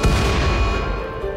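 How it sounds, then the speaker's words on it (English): A loud explosion in the video game RimWorld, a dense booming roar that starts at full strength and stays heavy, slowly thinning over a second and a half with no speech. "Let's show them the power of the explosion."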